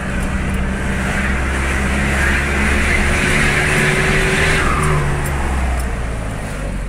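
Loud, steady exhaust note of a Nissan Frontier pickup idling and revving up close, with a continuous low engine rumble throughout and no speech.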